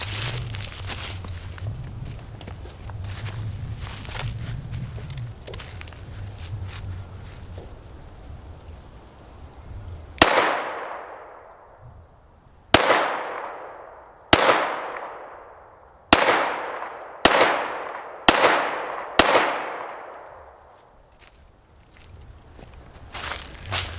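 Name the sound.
Springfield Hellcat RDP pistol gunshots at 5-6 yards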